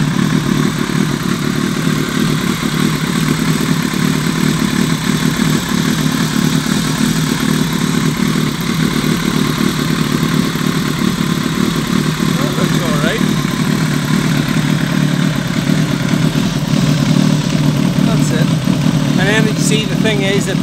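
A 2001 Kawasaki ZRX motorcycle engine idles steadily just after its first start, a loud continuous low rumble with light mechanical clatter running throughout.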